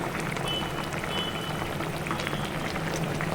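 Fish curry bubbles and sizzles in a pan as a half spoon of raw peanut oil is poured over it, giving steady crackling and liquid noise with scattered pops.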